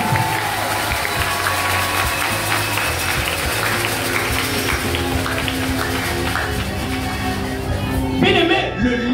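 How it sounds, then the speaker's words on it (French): A church congregation applauds and acclaims the Lord, with steady clapping and crowd noise under a voice, continuing loud throughout before trailing off at the end. "Est-ce que tu peux acclamer le Seigneur?"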